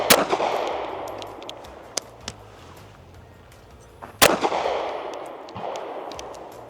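A Bodyguard 2.0 .380 pistol fires at about 10 yards: a loud close shot with a ringing decay, a couple of fainter pops, then another sharp, loud shot echoing outdoors.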